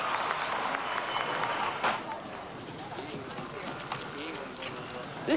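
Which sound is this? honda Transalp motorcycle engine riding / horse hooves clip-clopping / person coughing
horse hooves clip-clopping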